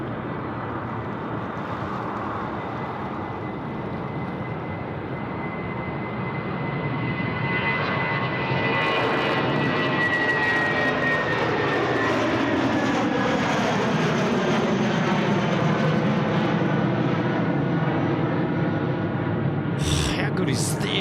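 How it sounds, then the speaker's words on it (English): A Jetstar Airbus A320 jet rolls for takeoff on runway 34 right at Sydney Airport, a loud, steady engine roar that swells and rises in pitch as it gathers speed, heard from outdoors. "Jetstar now, A320 rolling 3-4 right"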